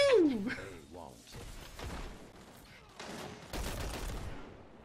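Gunfire from a Destiny Iron Banner match, with scattered bursts and cracks of varying loudness amid game effects and a sweeping tone at the start, while players talk over the action.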